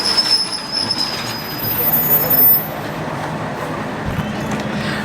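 A one-man train stands at a small station in Kagoshima, Japan. The close, loud rumble of its rail wheels mixes with high metallic squeals and a brief louder surge midway, with no speech.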